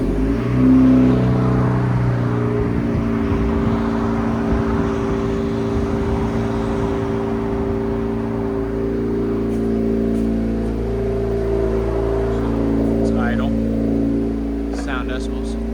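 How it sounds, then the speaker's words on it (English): A 2025 Honda Civic Si fitted with an AWE cat-back exhaust runs with a deep, steady droning tone, loud and close, sustained through the whole stretch. "2025 Honda Civic SI with a AWE catback system on it."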